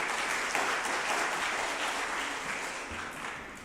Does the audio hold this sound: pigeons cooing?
no